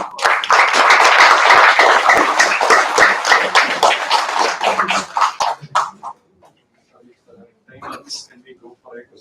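Audience applause at an awareness session, loud and dense for about five seconds, then dwindling to sparse individual claps before quiet, with a voice briefly audible near the end.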